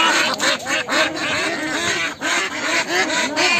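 Ducks at a village duck farm and hatchery quack and honk continuously in a dense, nearby flock, calls overlapping in a busy rhythmic chorus with no talk.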